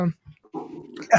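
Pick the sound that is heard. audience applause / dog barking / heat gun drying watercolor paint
dog barking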